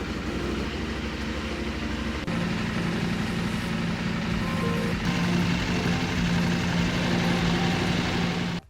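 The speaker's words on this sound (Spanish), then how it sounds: "vamos a arrancar la moto" A motorcycle engine idles right after starting, a steady low drone that steps up slightly in level partway through and holds even and close until it cuts off at the end, with no talking.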